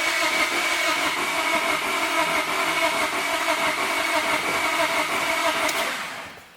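A turbocharged Honda Civic engine runs rough at a steady, loud idle with a constant droning hum, then cuts off abruptly near the end.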